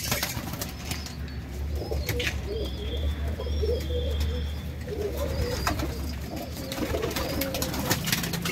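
Pigeons coo softly and repeatedly amid a steady low rumble, with occasional wing flaps and chirps nearby, from flying pigeons kept for sale.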